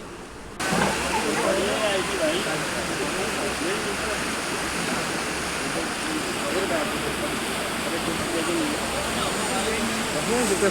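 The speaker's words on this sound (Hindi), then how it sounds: "और देखो इतना ज़बरदस्त फ्लो है इस रिवर का, इतना पानी आ रहा।" A swollen, fast-flowing river at Tanakpur barrage roars steadily after heavy rain, a dense continuous rush of churning water heard close and loud for the whole stretch.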